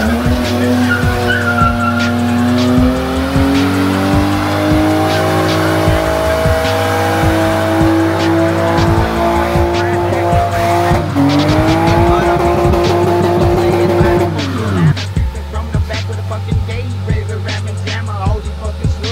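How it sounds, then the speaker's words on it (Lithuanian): A car on a test drive after a round of work, its engine revving hard with pitch rising and falling as the tires squeal and skid almost continuously, loud and close throughout. "Ką po visų darbų, reikia padaryti test drive'ą."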